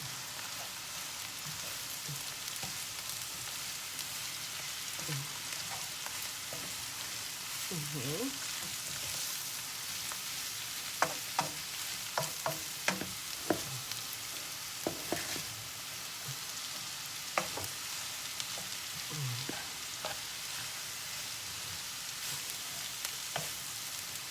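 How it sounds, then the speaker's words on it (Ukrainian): Shredded cabbage goes into a pan of frying carrot and onion and sizzles softly and steadily, with scattered sharp clacks of a utensil as it is stirred. "кидаємо капусту. Перемішуємо."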